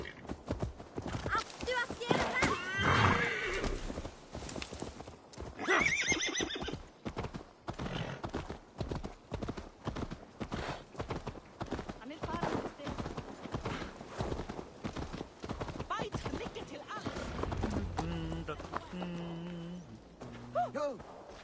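A horse in Assassin's Creed Valhalla whinnies and snorts while its hooves clip-clop steadily, heard faintly over stretches of conversation between characters.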